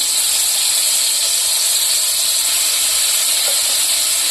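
Onion paste and green chili paste hitting hot white cooking oil in a pan, giving a steady, loud hiss and sizzle that runs unbroken throughout with no voices.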